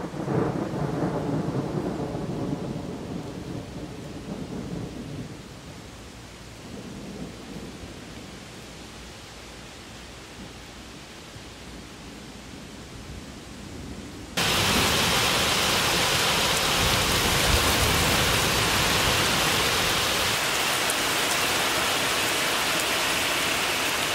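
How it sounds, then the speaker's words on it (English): Thunder rumbles low and broad through a rainy garden, fading over several seconds before a loud, steady wash of heavy rain abruptly takes over and holds to the end. "can you guys hear the thunder, but I'm kind of on a race against the rain that's coming"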